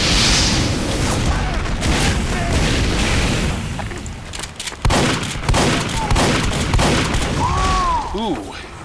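Gunfire from a shotgun battle in the video game Team Fortress 2, with dense, continuous shooting and booming blasts that run under a voice throughout.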